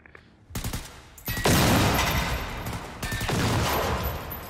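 Gunfire in the video game Generation Zero at a military base: a burst of shots, then a sustained loud volley that briefly breaks off and resumes, close and harsh.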